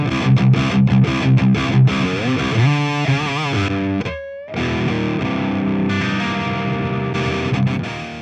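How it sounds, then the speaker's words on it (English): A heavily distorted, high-gain electric guitar through the Mercuriall U530 amp plugin plays loud, saturated chords and a few sustained notes. "it essentially offers a choice between crunch and high gain distortion tones"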